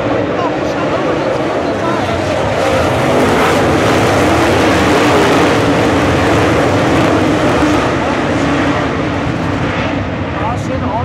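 World of Outlaws sprint cars roar off the start at Bubba Raceway Park in the 2015 season, a loud, dense wall of engine noise that runs unbroken throughout.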